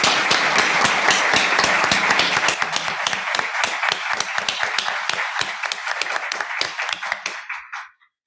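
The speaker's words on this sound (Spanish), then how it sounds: "darle un aplauso a nuestro ponente de hoy" An audience at a book presentation claps for the speaker, a dense burst of many hands that thins into a few scattered claps before stopping abruptly.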